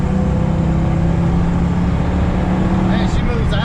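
A car with a fresh low-mile engine and aftermarket exhaust, driven on cold tires, pulling hard under acceleration with a loud steady engine drone and humming tones throughout, and a voice briefly speaking near the end.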